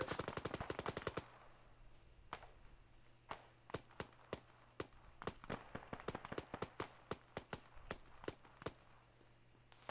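Rapid bursts of automatic gunfire in Arma 3 during a British military-simulation ambush on an armoured convoy, a fast volley at the start followed by sharp, evenly spaced single shots over a steady low hum.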